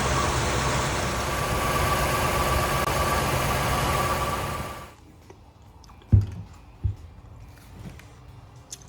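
1946 Ford flathead engine idling after decades of storage: a steady, even idle rumble for about five seconds, then it stops, followed by a few sharp clunks and quiet handling noises.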